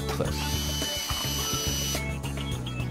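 Cordless drill driving screws through fixing clips into solid floor boards during floor installation, a steady whirring motor with ratcheting clutch clicks, close and continuous.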